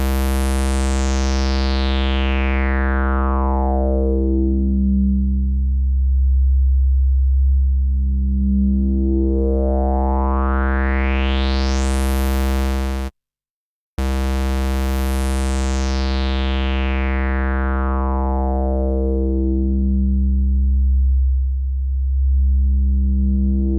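A Moog synthesizer app on iPad or iPhone plays a loud, sustained bass-heavy tone while a filter sweeps slowly down and back up in long arcs, with a brief silent gap partway through and no talking.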